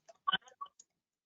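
A few quick computer mouse clicks from right-clicking, small and dry, in a brief irregular cluster followed by silence.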